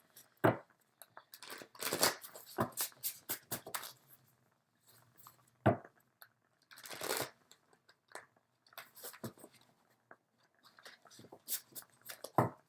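Tarot cards shuffled by hand in short separate bursts, crisp riffles and papery flicks close by, broken by quiet pauses, with one fuller shuffle near the middle and more toward the end.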